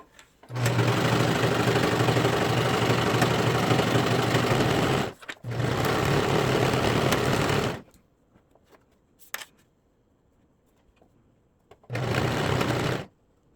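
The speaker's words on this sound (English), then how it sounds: "We're going to serge that up." A serger stitches the side seam of an athletic tank top in long steady runs, loud and close, stopping briefly between passes and ending with a short final burst.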